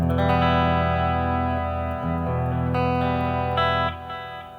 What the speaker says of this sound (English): There's some delay. I have the delay on there. And a little bit of reverb.